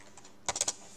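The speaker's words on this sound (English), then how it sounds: "And now I type gravity" A quick run of four or five close computer keyboard keystrokes in a tight cluster, following a couple of faint earlier taps, in a quiet room.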